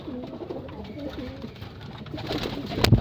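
Pigeons coo in soft repeated throaty phrases close by, then wings flap and birds scuffle loudly toward the end as they squabble.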